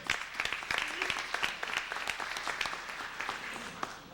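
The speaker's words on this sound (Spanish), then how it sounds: "Un aplauso de nuevo para él." An audience applauds at a Spanish-language book event, steady crowd clapping at moderate distance for several seconds, fairly even without voices over it.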